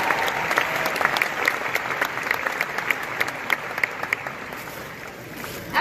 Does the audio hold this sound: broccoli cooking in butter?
no